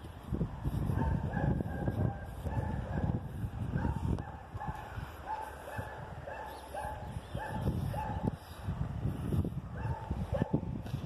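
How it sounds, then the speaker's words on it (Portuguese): A dog barks repeatedly along a residential street in the Vila Rainha neighborhood of Campos dos Goytacazes, Brazil, the barks fairly close and mixed with steady street background noise. "Cachorro ali."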